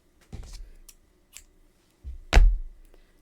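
Scissors snipping a crochet yarn end, two crisp close cuts about two seconds apart with small handling clicks between them in a quiet room.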